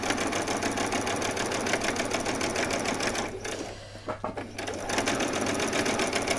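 A sewing machine runs a straight stitch along a seam on vet scrubs, a loud, continuous close-up whir that dips briefly in the middle before picking up again.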